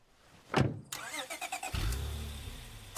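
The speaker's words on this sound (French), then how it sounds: "on part sur une petite berline Prius" A Prius sedan in the zombie survival game State of Decay 2 starts up: a door thud, a rapid cranking stutter, then the engine catching into a low, steady idle, close and fairly loud, with no talking.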